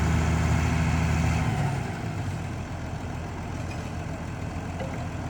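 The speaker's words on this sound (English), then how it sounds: "Having a few issues turning it over for some reason." An old tractor engine that is hard to turn over idles with a heavy, low rumble that drops to a quieter, rougher running level partway through. No one speaks.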